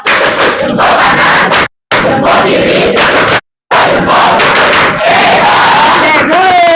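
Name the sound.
class clapping chant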